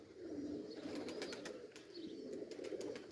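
Pigeons from Kherson kept in the Kyiv region cooing softly in a low, rolling murmur, with light scattered chirps and clicks above it, faint and steady throughout.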